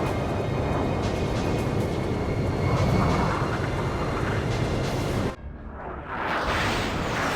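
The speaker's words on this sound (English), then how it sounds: "Incoming aircraft." Jet fighters roar past in the Ace Combat 5 video game, a loud sustained engine rush that drops sharply near the end before swelling again.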